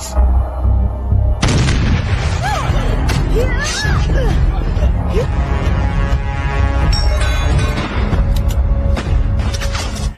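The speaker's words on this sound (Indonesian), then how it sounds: "baku tembak di antara mereka terjadi" Gunfire exchange in a war film set during the 1945 return of colonial forces to Surabaya, with booming shots and blasts layered over dense battle noise, chaotic and loud throughout, with voices shouting beneath.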